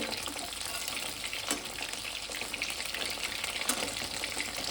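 Prawn pakoras sizzle and crackle in hot oil, a steady bright frying hiss with a few sharper pops rising from it.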